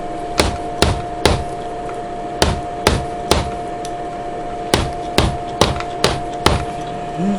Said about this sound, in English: we just smack it, give it a good couple whacks